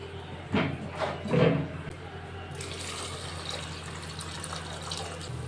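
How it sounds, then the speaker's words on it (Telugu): Water pours into a pot of rice for cooking: a close, steady rushing splash that fills the second half, after a brief stretch of voice over faint running water. "గ్లాస్ బియ్యానికి 2 గ్లాస్ వాటర్ వేసుకోవాలి"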